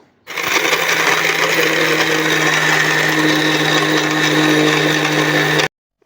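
A kitchen grinder whirs steadily at high speed for several seconds, grinding fruit into fine powder, a loud, constant motor drone with a gritty edge, then cuts off abruptly.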